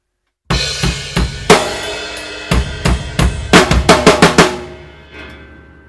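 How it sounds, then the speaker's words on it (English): A drum kit plays a rhythmic pattern of kick hits with cymbals ringing over them, sharp strikes in groups separated by short rests, loud and close, then ringing out. "So it's just three hits on the kick, then a rest, and then twice."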